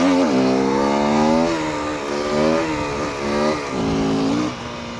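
A 125cc motorcycle engine revs hard while the bike is held up on its rear wheel in a wheelie, the pitch climbing and dropping in several loud, close surges with throttle changes.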